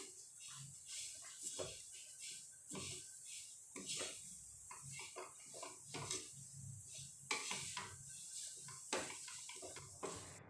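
Grated papaya is stirred with spices in a pan for a stuffed papaya paratha, with soft scraping and clinking spoon strokes in irregular bursts, fairly quiet and close.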